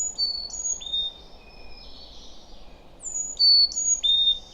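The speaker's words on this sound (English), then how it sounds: "each morning, I was treated to a symphony of birdsong" Birdsong along a forest stretch of the Appalachian Trail: several birds trade clear whistled calls and slurred tweets, some near and loud, others fainter, over a steady low hum of background noise.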